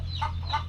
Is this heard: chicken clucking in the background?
yes